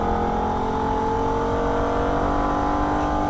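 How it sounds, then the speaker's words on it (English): A Holden VF Ute shifts up into third gear on the Nürburgring, its engine a loud, sustained, even drone close by. "Quick upshift into third gear as we make the approach to Metzgersfeld."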